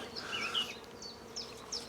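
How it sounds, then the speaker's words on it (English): Honey bees from a newly collected swarm buzzing as they crawl into their hive, a close, steady droning hum with individual bees whining past, fairly quiet and without talk. "Bees are all going in now, no problem."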